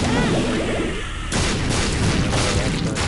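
An explosion goes off in the video game The Binding of Isaac Rebirth as a sudden loud boom with a whooshing burst, set against continuous game sound.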